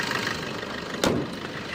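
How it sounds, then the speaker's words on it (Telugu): A 2016 Maruti Vitara Brezza VDi diesel engine idling, a steady low rumble heard up close with one brief sharp click midway. "ఇంజన్ సౌండింగ్ మంచిగా ఉంది, నీట్గా."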